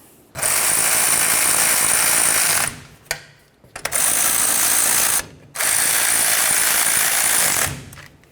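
A ratchet clicks rapidly in three long, steady bursts with short pauses between them, snugging bracket bolts on the differential cover of a 1988-2000 Chevy C/K1500 pickup; the sound is close and loud, with no voices.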